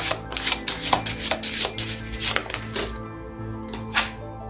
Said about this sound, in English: I'm just gonna shuffle really quick and see what comes out.